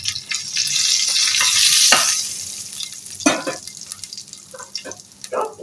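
Slit green chillies and cumin sizzle loudly in hot oil, a continuous crackling fry with stirring scrapes and small pops that settles somewhat after a few seconds.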